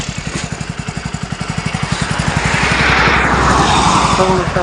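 A motorcycle engine putters in quick, regular pulses close by, then its tone swells into a broader roar as it revs or moves off.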